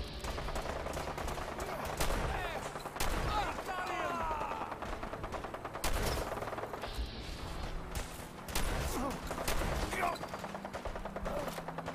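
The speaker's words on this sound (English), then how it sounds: "The mission's parameters just changed. We go in shooting." Gunfire in a firefight in the video game Fallout 4, with repeated bursts and sharp shots over a busy mix of game sounds, while voices talk through much of it.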